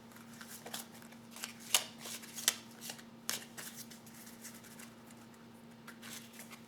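Oracle cards being shuffled by hand make soft, quiet papery riffles and a few sharper snaps, close and isolated, over a steady low hum.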